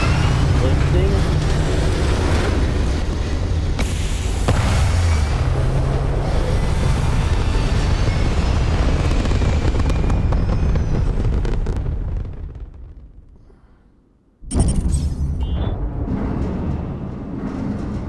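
A spaceship lifts off in a Star Wars game mod, a loud sustained engine roar with rumbling low end that fades out and cuts to silence before a burst of new noise returns.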